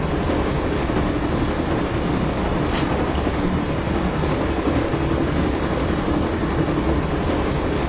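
A moving train in the video game Broken Sword: Shadow of the Templars rumbles with a steady, loud, continuous rolling roar and faint clatter throughout, with no talk over it.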